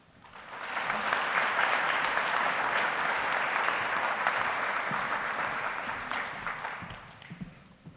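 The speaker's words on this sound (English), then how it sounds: "may we have one more round of applause for our superintendent, Ms. Teresa Weatherall Neal." Applause from an audience at a school graduation ceremony, a steady wash of many hands clapping that swells in, holds for several seconds, then thins out to scattered claps.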